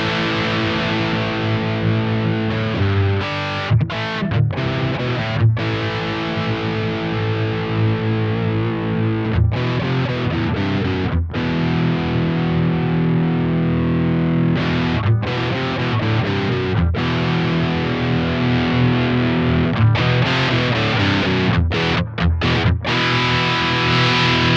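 Electric guitar through a JHS AT+ distortion pedal with the treble boosted, playing sustained, heavily distorted chords and riffs continuously with short breaks between phrases.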